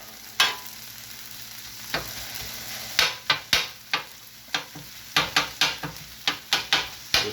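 A metal spatula chops meat on a hot griddle for a chopped cheese and meatball sandwich, giving sharp, irregular scraping clacks over a steady sizzle, with several quick strikes bunched toward the end.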